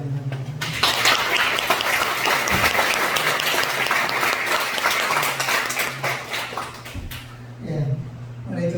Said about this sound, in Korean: 우리한테 박수로 환영합니다.